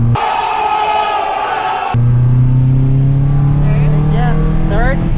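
A manual-transmission car, a fake Evo, pulls away in second gear, its engine note rising steadily and loud close by, with a voice heard over it.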